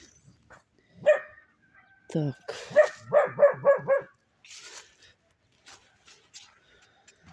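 Neighbors' dogs bark in a quick series of yaps at moderate distance in an autumn garden, a run of five or six close together, with a brief spoken word nearby.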